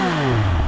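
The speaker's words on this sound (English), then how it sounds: "Just pulled over and I want to give the bike a rev" A 2021 Triumph Speed Triple 1200RS motorcycle engine revs briefly at the roadside, a short loud close blip with the pitch falling as the revs drop.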